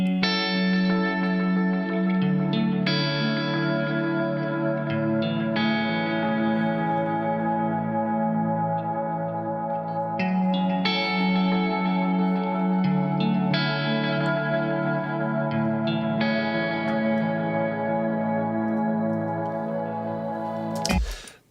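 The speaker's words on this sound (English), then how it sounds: "That's the main guitar here that runs through pretty much the whole song. That is processed through Guitar Rig." Main electric guitar line run through Guitar Rig effects, with distortion, chorus and echo giving a shimmering, sustained tone; chords ring and change every few seconds across a long unbroken passage, ending abruptly.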